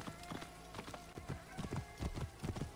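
Horse hooves clip-clop in a quick, uneven galloping rhythm in the video game Assassin's Creed Origins, a moderately close patter of repeated thuds over a quiet background with no speech.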